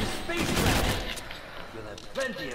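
Gunfire in Call of Duty Infinite Warfare Zombies, a dense burst of rapid shots that thins out and then flares again briefly, with a voice talking over it toward the end.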